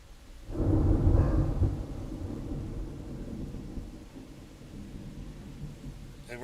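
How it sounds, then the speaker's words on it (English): A single deep rumble of thunder rolls in during a thunderstorm, loud at first and then fading into a long, low, distant grumble with steady background noise. "there's big thunder behind me"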